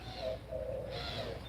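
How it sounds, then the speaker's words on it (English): Ring-necked doves coo in a low, steady call at an Arizona home around dusk, a soft continuous murmur close by with no voices over it. "These are the ring-necked doves that are screaming bloody murder because I haven't fed them yet."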